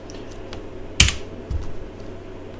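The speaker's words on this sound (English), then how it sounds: "I can copy the command from here and paste it on my terminal" Keyboard keys clicked at a computer while pasting a command into a terminal, one sharp close keystroke cluster followed by a softer tap, otherwise quiet.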